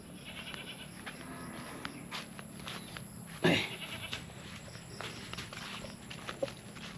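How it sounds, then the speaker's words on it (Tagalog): Goat on a farm, with a newborn kid nearby, gives a short bleat over steady outdoor background noise and scattered rustling steps, with one brief louder sound midway. "Sana yung kambing dito, yung bagong panganak."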